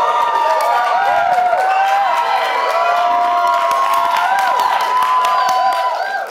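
A live studio audience at a wine show cheers, whoops and claps loudly and continuously, a dense crowd roar with shouting voices that fades slightly at the very end.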